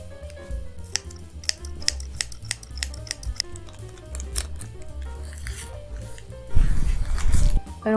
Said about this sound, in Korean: 커브 모양의 가위를 이용해서 조금 더 동그랗게 정리를 해주도록 할게요